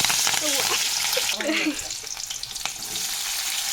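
Oil sizzles and crackles loudly as green chilies fry in a pan for a tempering, a steady hiss with brief stirring scrapes partway through.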